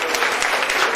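A church congregation applauds together at an evening worship service, a steady, dense wash of clapping hands filling the whole moment with no speech over it.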